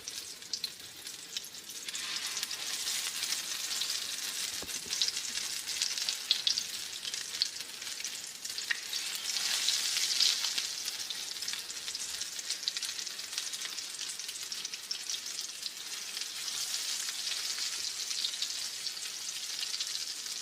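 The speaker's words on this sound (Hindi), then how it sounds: "ऑयल मैंने पहले से रख दिया था और गर्म भी हो चुका है, तो आराम आराम से इसको डालते हैं।" Luffa and zucchini kebabs frying in hot oil, with a continuous crackling sizzle at moderate, steady level and a brief louder burst of spitting midway, no voices.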